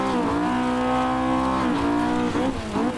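Axfor ProPulsion S2 Junior kart with a Honda K20 engine accelerating in Assetto Corsa, a loud, steady high-revving drone with strong harmonics that dips briefly near the end as the throttle lifts and comes back on, with no talk over it.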